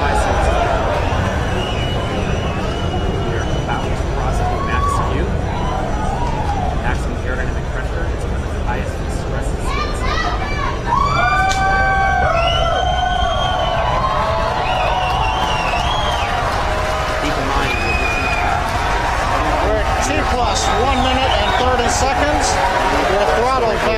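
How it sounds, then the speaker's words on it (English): A crowd at SpaceX Hawthorne cheers and whoops through a rocket launch, with sustained broad roaring applause and shouts, loud and continuous, under a steady bed of mixed voices and broadcast audio. "a lot of cheering here in Hawthorne"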